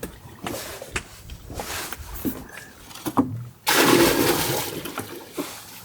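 Sea water sloshes and splashes as it is scooped up on an island reef, a short burst of pouring and splattering after some quieter rustling and knocks.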